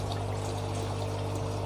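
Water pours back into the tank of a DIY 18-hole hydroponic system, a steady close trickling flow over a constant low pump hum.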